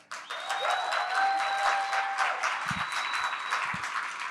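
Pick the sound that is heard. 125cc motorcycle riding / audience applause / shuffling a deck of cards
audience applause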